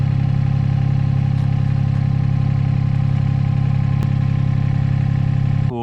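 A mini excavator's diesel engine runs flat out at full revs, a loud, steady, close droning clatter with a constant pitch that holds for the whole stretch without any talking.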